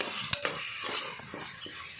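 Chicken sukka masala frying in a pan with a steady close sizzle, broken by a few scrapes and taps of a stirring utensil.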